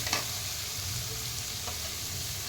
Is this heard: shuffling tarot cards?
no